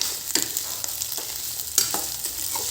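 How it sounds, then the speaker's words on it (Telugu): Chopped capsicum frying and being stirred in a pan for a curry, with a steady soft sizzle and a few brief scraping stir sounds, close and moderately quiet, no talking. "ఇది మెత్తగా అయిన వరకు ఇలా ఫ్రై చేసుకుందాం"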